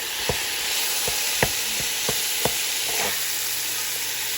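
Seasoned ground beef sizzles loudly and evenly in a pan while a spatula breaks it up, landing about half a dozen distinct sharp taps against the pan.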